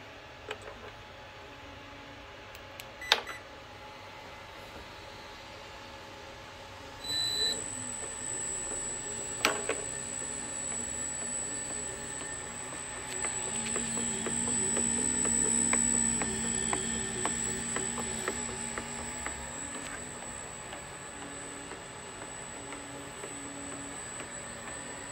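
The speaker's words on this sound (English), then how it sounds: "So now I will show you a short test of this gearbox and this motor on 2-cell." A 3D-printed RC Tiger 1 tank gearbox and motor running on a 2-cell battery gives a quiet, steady whine with a thin high tone. It starts partway through after a few clicks and rises slightly in intensity before easing off.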